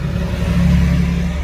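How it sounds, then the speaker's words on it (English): A truck passing by on a nearby road, a loud, steady low engine rumble and whir that fills the whole moment without any talk. "I got tired of pausing the video every time a truck passed by."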